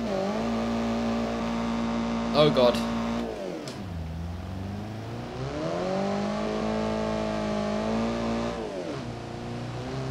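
A car engine in the Automation video game, fitted with an added intake sound, revs up and down in long sweeping pitch rises and falls, loud and close, while someone speaks briefly over it.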